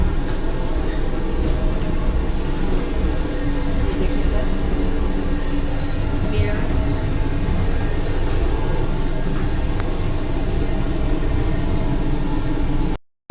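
Steady rumble and rolling clatter ride along inside a running Vande Bharat sleeper express train, a constant close drone of the moving carriage that cuts off abruptly at the end.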